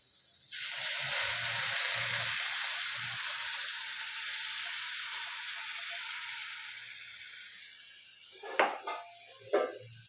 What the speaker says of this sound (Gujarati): તો હવે અંદર આપણે થોડુંક પાણી પાડી દઈએ